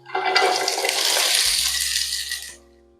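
Okra frying in about two tablespoons of cooking oil in a pan for a meat stew, a loud steady sizzle and hiss filling the first two and a half seconds, then fading to a low hum.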